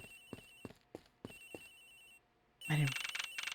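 A telephone ringing in the Ace Attorney Investigations video game, a series of quick repeated electronic ring pulses in two bursts, followed by a louder, denser ringing burst.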